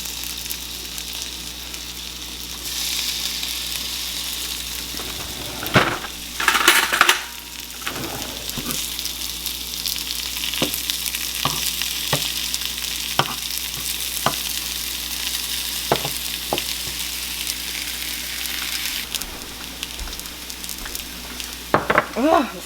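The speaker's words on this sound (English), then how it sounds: "get this bacon going." Bacon fries in a pan on high heat with a loud, steady sizzle and crackle throughout, broken by several sharp spatula clicks and scraping stirs.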